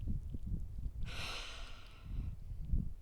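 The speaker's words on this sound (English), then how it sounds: "So let's all take a deep breath together." A single deep breath drawn in and let out, a rushy inhale rising sharply then fading over about a second, surrounded by faint low room noise.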